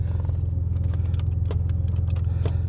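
A Maserati that had been submerged in water idles steadily up close, its low engine rumble continuous, with light rattles and clicks over the top and no one speaking.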